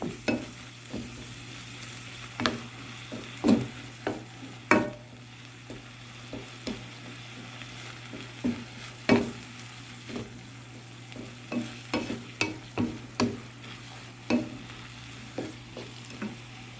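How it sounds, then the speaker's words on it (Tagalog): Beef fries in a pan with a steady sizzle and regular sharp clinks and scrapes of stirring, repeating at close range throughout. "After mo mahugasan yung beef, ganito yun lang sa kawali."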